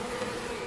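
Dense, steady buzzing of a newly installed package of honey bees in a hive box, close and continuous, with no voices.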